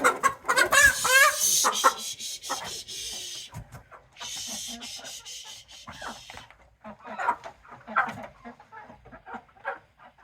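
Hens clucking inside a hen house at bedtime, with busy bursts of clucks and squawks near the listener, fading to scattered calls with quiet gaps between.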